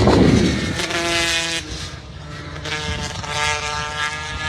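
A racing scooter engine at a Pembrey circuit race drones loudly and close as the rider feathers the throttle, the revs dipping and rising in a continuous buzzing pitch.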